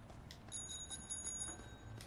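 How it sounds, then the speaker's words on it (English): Bicycle bell on a worn-out old bike in the video game A Way Out, a short bright run of rapid metallic rings, fairly faint over a low background hum. "The bell works."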